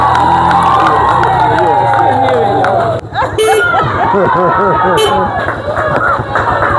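A church congregation at a bishop's visit cheers and shouts loudly, with many high voices and what seem to be claps and whoops rising in a dense, continuous roar that swells again midway.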